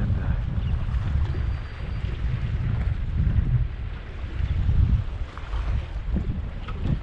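A fishing boat motors over schools of weakfish, a steady low engine rumble mixed with wind buffeting the microphone, continuous and close.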